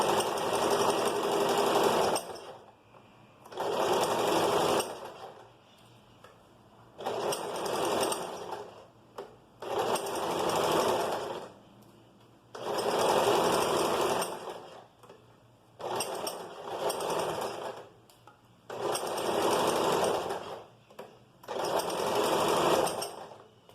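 Sewing machine stitching a flared skirt seam in repeated bursts, about eight runs of close rapid whirring lasting one to three seconds each, separated by short quiet pauses as the fabric is guided.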